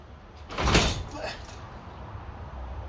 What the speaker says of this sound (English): Springs on, door opens.